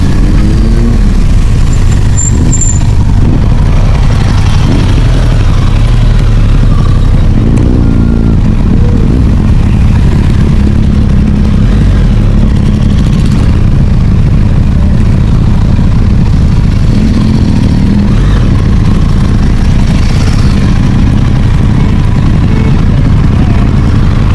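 Several off-road motorcycles run their engines on a rocky trail near Tumakuru, making a loud, continuous, rumbling drone that holds steady throughout, close and unbroken.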